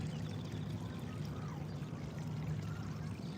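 Close waterfall, a steady, loud, unbroken rush of falling water with a deep low roar and hiss, no other sounds.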